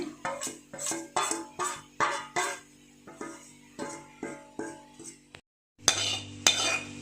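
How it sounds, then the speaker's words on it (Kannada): Boiled chickpea chaat being mixed in a bowl with a spoon, a quick rhythmic series of close metallic clinks and scrapes about twice a second, a brief pause, then a louder burst of mixing. "ಎಲ್ಲವನ್ನು ಮಿಕ್ಸ್ ಮಾಡ್ಕೋಬೇಕು"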